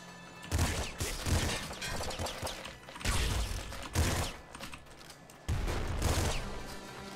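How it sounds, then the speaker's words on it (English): Repeated shotgun blasts in a video game, several loud booming shots in bursts with mechanical clatter between them, dense and close with no talking. "Another shotgun"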